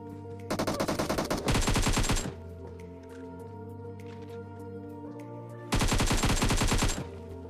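Rapid automatic gunfire from the mobile battle royale game BGMI rattles in two loud sustained bursts, separated by a quieter stretch of game ambience with scattered distant shots.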